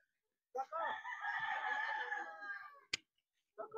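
A rooster crows once, loud and close, a long strained call in a quiet yard, followed by a sharp knock and the start of another crow.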